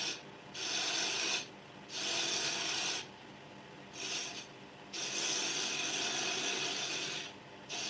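Hand-shaping wood for a candlestick with a rasp or file, repeated rough scraping strokes in bursts separated by short pauses, close and moderately quiet, with a steady high tone behind.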